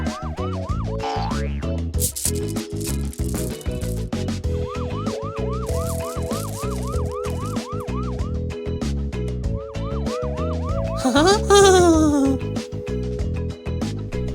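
A red fire truck's wailing siren sweeps up and down repeatedly over a steady rhythmic background, loud and close, with a brief rising whoop near the end.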